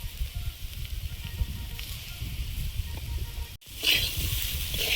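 Bitter gourd leaves and potatoes frying in a pan give a continuous close sizzle with soft crackling, briefly cut off, then returning louder and brighter as the leaves are added.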